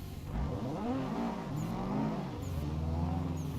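A car engine revs in the PC racing game Assetto Corsa, rising and falling through several steady climbs and gear changes, loud and continuous with no voices.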